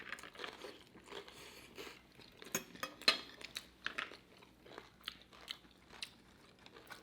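Close, crisp bites and crunchy chewing of a homemade enchilada taco bowl topped with chipotle Tabasco, irregular crackling chews and a couple of louder crunches, with faint cutlery clinks and no talk.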